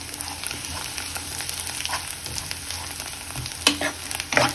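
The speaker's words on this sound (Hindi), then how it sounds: "दोस्तों आलू भुनने लग गया है हमारा, लाल होने लग गया है" Diced potatoes for aloo halwa being fried and stirred in ghee in a pan, a close continuous sizzle with scraping stir strokes and a couple of louder clinks toward the end, no voices.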